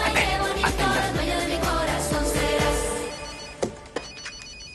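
A telephone bell rings in a trilling burst, loud and close, then fades out, followed by a few faint clicks, with no voices.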